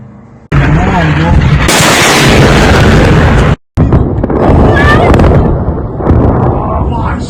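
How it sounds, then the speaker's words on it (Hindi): Israeli strikes on Tehran, Iran: loud, sustained booming blasts and rumbling detonations fill the scene, cut briefly by a sharp gap before more heavy bursts and crackling follow. "उधर इजराइल ने तेहरान पर, ईरान पर बड़े हमले किए हैं"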